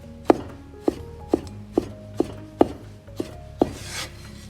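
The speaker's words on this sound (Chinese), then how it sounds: "再顶刀切成薄薄的厚片，尽量切薄一点" A knife chopping cooked pig tongue into thin slices on a board, eight crisp, evenly spaced blade strikes close up, with no talking.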